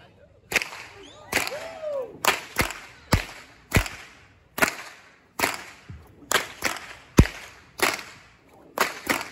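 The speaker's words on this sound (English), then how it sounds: "here comes the first whip crack of the show. It's going to be kind of loud" A fire whip cracks about a dozen times in quick, fairly regular succession at a Texas Renaissance Festival show in 2024. Each snap is loud and sharp against a quiet background, with faint crowd sounds between them.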